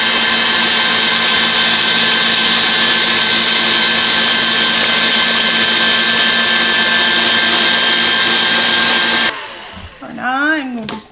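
An electric hand mixer whirs steadily while beating eggs into blueberry sour cream pound cake batter, a loud continuous motor drone for most of the clip before it cuts off and a few soft clanks and a short voice follow.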